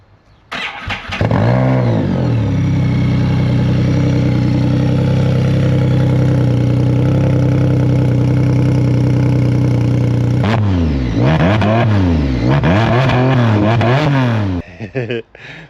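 A motorcycle with an upgraded slip-on exhaust is started and held at a loud, droning high rev, then blipped through several sharp rising and falling revs close by before cutting off.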